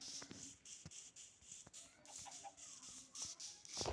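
Soft, scattered chicken clucks from the video game King Craft come in short bursts over faint shuffling and clicking noises, with no talking.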